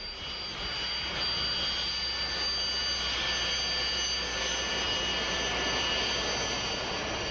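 A Sukhoi Su-25 Frogfoot attack jet's engines roar continuously, a loud, even rushing blast with a high, thin whine running through it and no voices.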